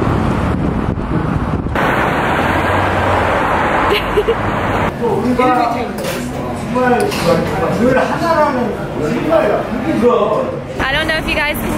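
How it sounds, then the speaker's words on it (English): Loud roadside traffic noise on a Seoul street near Gyeongbok Palace, with cars rushing past and wind buffeting the microphone, while people talk over the roar. "I don't know if you guys can hear me because of all the cars"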